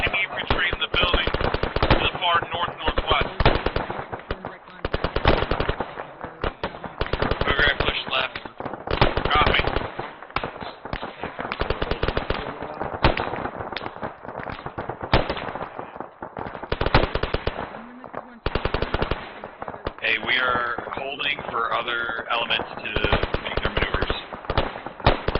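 Machine gun suppressive fire during military platoon training, long rapid bursts of gunfire rattling near and loud, broken by short pauses, with radio-style voices talking among the shots.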